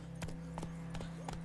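Roach, the horse in the video game The Witcher 3, trots with about four crisp, evenly spaced hoof clip-clops over a low steady hum, fairly faint and without talking.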